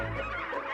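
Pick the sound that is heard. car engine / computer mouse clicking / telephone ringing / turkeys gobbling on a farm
turkeys gobbling on a farm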